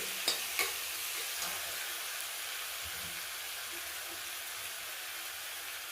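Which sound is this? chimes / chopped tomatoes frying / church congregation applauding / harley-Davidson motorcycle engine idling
chopped tomatoes frying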